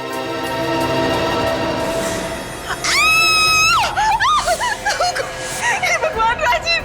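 A woman screams loud and close in long rising and falling cries, broken into shorter shrieks toward the end, with a busy indoor background beneath.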